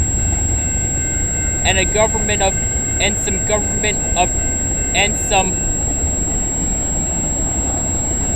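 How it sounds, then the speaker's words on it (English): A freight train carrying Saskatchewan grain hopper cars rolls past with a steady low rumble and wheel noise, close and continuous, while someone talks over it in short bursts. "Oh, look at that, some Saskatchewan hoppers"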